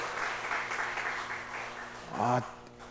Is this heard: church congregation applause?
yes